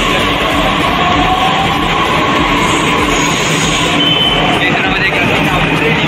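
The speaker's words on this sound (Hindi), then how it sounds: "मेरे पीछे पीछे दो मेट्रो चली गई देख लो" A Delhi Metro train rumbles by nearby near Sarojini Nagar market with a steady, heavy roar and rolling rail noise, continuous throughout with faint voices mixed into the din.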